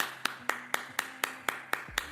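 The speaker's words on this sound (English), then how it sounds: "So another round of applause" Applause sound effect played from a soundboard, a short burst of sharp rhythmic claps repeating about four times a second, close and clear with no talk.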